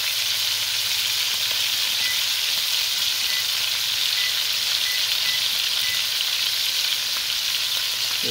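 A beef roast for Italian beef sears in a hot pan with a loud, steady, close sizzle and hiss that runs unbroken throughout.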